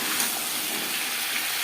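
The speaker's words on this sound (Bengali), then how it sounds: "3-4 মিনিট আলু ভেজে নেওয়ার পর দিয়ে দেবো সজনে ডাঁটা" Potato pieces frying in a pan for a curry with drumsticks, a dense, even hiss of sizzling oil, close and steady through a short stretch with no talking.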